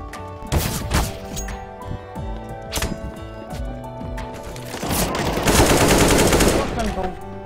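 Rapid automatic gunfire from a shooting video game, loud and close, in bursts with sharp shots that build into a dense, sustained volley near the end, with no talking over it.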